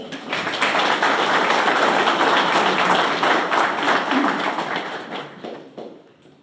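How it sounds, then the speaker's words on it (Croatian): Audience at the Đurđevo festival in Sveti Đurđ breaking into dense, sustained clapping that fills the space for several seconds, then thins and fades out near the end. "Ohrabrimo ih jednim pljeskom."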